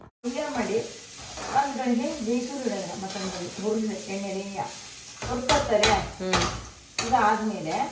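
Spices sizzle in hot oil for tempering bamboo shoots as a spoon stirs and scrapes the pan, with a voice speaking over the cooking throughout.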